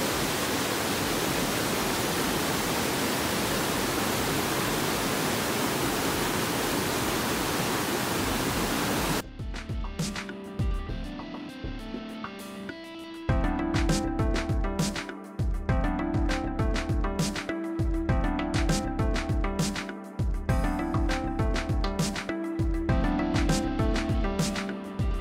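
Mosaic Falls, a waterfall and swimming hole in the Columbia River Gorge, rushes as a loud, constant broadband roar for about nine seconds, then cuts off abruptly and music with a steady beat takes over.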